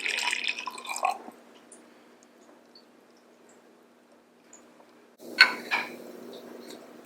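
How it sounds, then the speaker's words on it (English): A freshly pulled espresso shot is poured into a mug, giving a brief liquid trickle and drip close by, followed by quiet and then a clink and splash near the end, with no voices. "So we're going to pour our shot into the mug."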